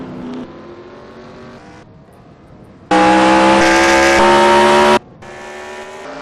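Race cars in the Wreckfest video game roar with engines, quiet briefly, then blast loudly for about two seconds with a strong revving tone, then drop back to a steadier engine drone.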